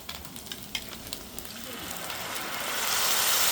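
Chopped onions browning in oil as grated tomatoes are added to the pan for Indian matar paneer sabji: a steady sizzle and crackle that swells into louder frying, with a few stirring clinks early on.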